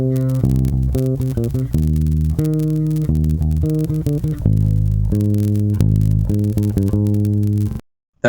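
A bass guitar plays a bar of a song as a steady run of clear, low plucked notes that end with a brief silence.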